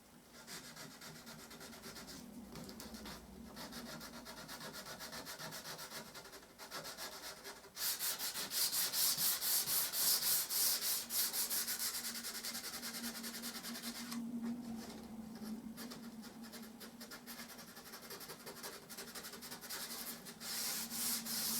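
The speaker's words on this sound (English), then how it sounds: "Just sand up to it and then bring this other piece across. Always following the grain." A wooden picture frame is hand-sanded along the grain with 120-grit paper, giving a steady, close rasping rub that carries on with no pauses and gets louder and brighter partway through.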